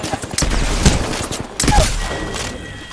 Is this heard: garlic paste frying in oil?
no